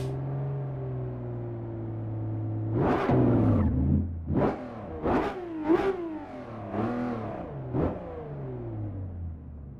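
A car engine idles low, then revs hard several times in quick bursts, each rising and falling, loud and close with a synthetic game-like tone.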